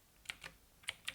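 Four quiet, crisp keystrokes on a computer keyboard while C code is typed, spaced unevenly in two pairs, close but faint, with no voices.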